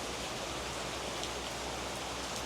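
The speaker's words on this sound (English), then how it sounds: "It started raining." Steady rain falls outdoors during a car tire swap, a dense, even hiss with no other sounds and no talking.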